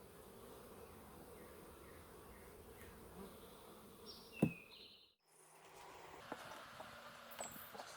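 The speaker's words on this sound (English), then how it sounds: "there's still quite a few bees in the box." Honeybee swarm of about three to four pounds caught in a box, giving a steady low insect buzz throughout with a brief sharper sound midway and a short drop to near silence.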